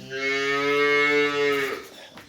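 A Jersey cow on a dairy farm gives one long, loud, close moo with a steady tone, holding for about a second and a half before fading out with no talk.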